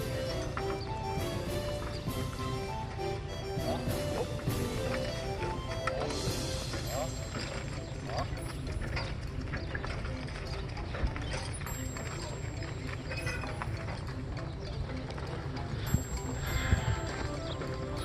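A pair of mules walks across a rough hillside, a busy jumble of hoof clops, creaking tack and clinking metal over outdoor noise, fairly close, with occasional talk.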